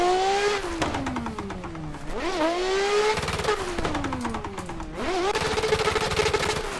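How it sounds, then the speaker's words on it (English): Nissan S13 and S15 drift cars slide through a compound circuit with tires squealing in long rising and falling wails over loud revving engines, in several sweeping passes with no talk. "we are just destroying the tires on this car"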